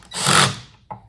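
A drill drives into plywood while a kitchen cabinet is built, giving one loud, close, short whirring burst followed by a brief faint tail.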